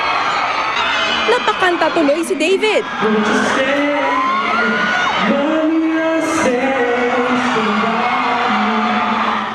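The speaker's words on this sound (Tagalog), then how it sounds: "Todo ang hiyawan at tilian." Fans at a mall fan day celebration in Mandaluyong cheer, whoop and scream loudly and continuously, a dense crowd roar with shrill shrieks, while a person speaks over the noise.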